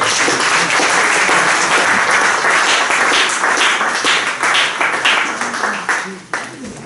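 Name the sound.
congregation applauding in church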